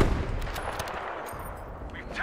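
Krag sniper rifle fire in a Domination match of a first-person shooter game, heard as dense, noisy gunfire bursts with a sharp onset, sustained crackling wash, faint voice murmur underneath.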